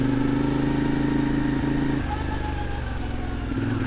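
CFMOTO 450MT adventure motorcycle pulling away, a steady close engine drone with a shift in pitch partway through as it rides off, wind and road noise mixed in.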